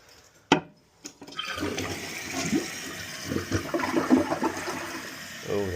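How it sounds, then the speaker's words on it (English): A toilet with a 3-inch flapper flushes, preceded by a couple of sharp handle clicks, then a rushing, gurgling swirl of water that sustains and ends with a draining slurp, close by. "Now remember we set that flapper at an 8, so let's see how it flushes."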